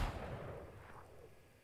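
A Ghost pistol with a battle-pass skin and teddy-bear charm in Valorant fires once while aimed down sights, a single booming report that decays over about a second and a half, alone with no talk.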